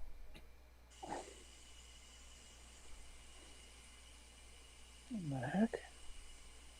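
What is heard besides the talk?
water running from a faucet in the background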